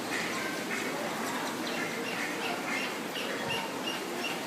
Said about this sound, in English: Get some roosters over here.